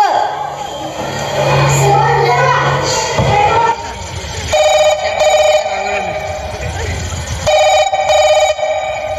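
A phone rings on stage during a school annual-day skit: two bursts of bright electronic ringing against a room with some crowd noise and people talking around them.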